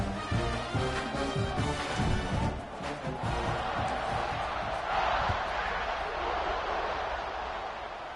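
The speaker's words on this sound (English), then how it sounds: "this crowd is feeling themselves after that last drive" Crowd at an American football game roaring and cheering after a scoring drive and extra point, a sustained wash of distant voices and whoops running steadily throughout, with no clear single speaker.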